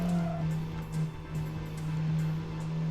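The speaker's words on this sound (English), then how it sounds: "I actually timed that braking very well" In the racing game Tokyo Xtreme Racer, a car's engine hums steadily under braking into a corner, with a faint tire squeal and skid over the continuous drone, close and without talking.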